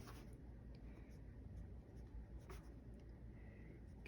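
A pen writes a title on a notebook page in a commonplace book, a faint, steady scratching under a constant background hiss.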